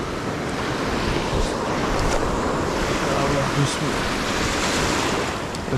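Wind blowing on a Black Sea shore during sea bass fishing, a steady roaring rush mixed with surf, with someone speaking briefly over it.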